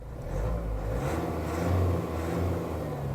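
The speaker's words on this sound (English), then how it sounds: "The engine is pretty refined, it doesn't sound too loud or clattery." A 2023 Mahindra Scorpio SUV diesel engine runs with a steady low hum and a slight rise in revs midway, smooth and fairly quiet rather than clattery.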